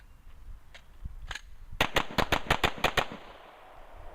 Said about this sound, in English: I got those rounds out nice and quick